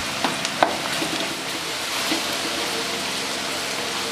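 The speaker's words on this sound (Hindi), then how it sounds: "अदरक लहसुन फ्राई हो चुका है।" Ginger and garlic fry with onions in a pan for an egg onion dish, giving a steady hiss of sizzling with a few sharp taps and scrapes from stirring near the start.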